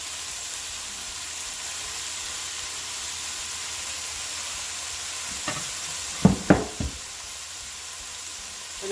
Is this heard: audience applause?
no